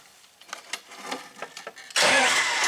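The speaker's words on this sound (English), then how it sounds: "Let's see if the engine starts." A 1994 John Deere 5400 tractor engine cranks with several uneven clattering turns, then catches and roars to life loudly, running steadily close by.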